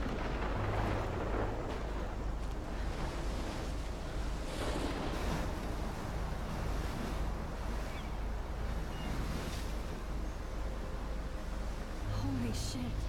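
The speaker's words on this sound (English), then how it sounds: "Oh my goodness, look at this crazy storm." Stormy wind and crashing waves from the Life is Strange video game, a steady loud roar of gusts and surf that continues throughout with little pause.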